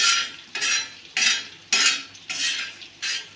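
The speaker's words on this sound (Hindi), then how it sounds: "मेरा इधर भून रहा है गोश्त" Meat roasting with garlic and ginger in a pan for biryani, stirred with a metal spoon: about six rhythmic scraping strokes against the pan, close and clear, with only a faint sizzle beneath.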